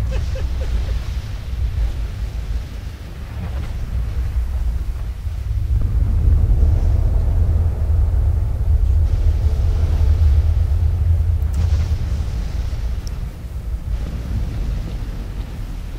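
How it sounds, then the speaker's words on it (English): An emission storm in S.T.A.L.K.E.R.: Call of Pripyat, a continuous deep rumble that swells and eases with a windy roar, no voices. "it looks like the emissions storm has finished"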